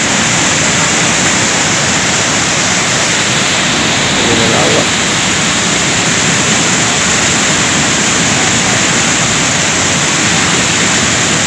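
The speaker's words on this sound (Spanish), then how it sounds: "está la cascada" A powerful waterfall roars on a trail near Baños in Ecuador, its steady broadband rush loud and close from start to finish, with no break or change.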